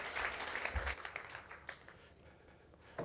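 An audience at a trade show breaks into warm applause to welcome a presenter to the stage, a dense, steady clatter of many hands clapping for about three seconds.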